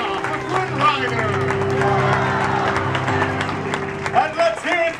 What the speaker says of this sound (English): a royal round of applause for Princess Rapunzel